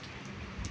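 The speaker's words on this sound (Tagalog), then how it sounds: "Naulan na talaga." Steady rain falling outdoors, a dense continuous hiss of drops with a few slightly louder patters near the end.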